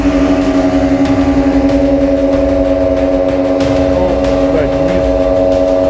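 Water-jet boat engines drone loudly and steadily at the race start, with a strong sustained tonal hum and some variation in pitch, while a person talks over the noise.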